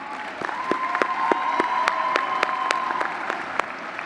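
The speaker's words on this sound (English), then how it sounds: "We should give her a warm round of applause." Applause rises from a high school graduation crowd for the organist, a steady wash of many hands clapping with a few sharp, distinct claps standing out and a faint tone lingering underneath.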